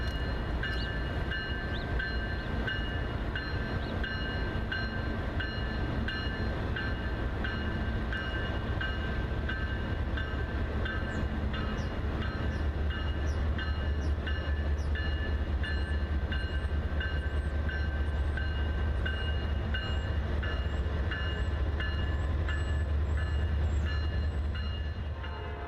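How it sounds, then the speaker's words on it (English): A Norfolk Southern westbound freight train passes through Wauhatchie, its horn sounding repeatedly over a loud continuous rumble of rolling cars and wheel clatter, close and sustained throughout. "A Norfolk Southern westbound heads through Wauhatchie with a very familiar horn if you're from the Northeast."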